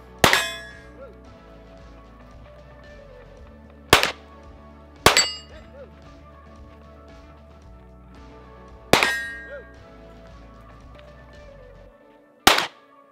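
Pistol shots ringing off steel targets on a competition shooting stage, five sharp metallic clangs spaced a few seconds apart, each with a short ringing decay, heard fairly close and alone.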